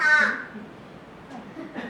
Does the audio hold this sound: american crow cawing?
yes